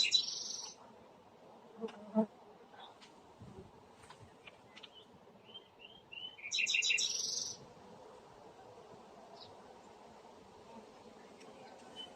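A steady low hum of honeybees buzzing close by at an open hive with frames, with a few bright bird chirps rising above it now and then.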